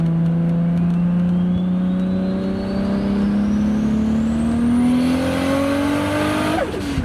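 A Supra's engine pulls hard from a 50 mph rolling start on radial tires, hooking without wheelspin, its tone climbing steadily as it accelerates, loud and close, before easing off at the end.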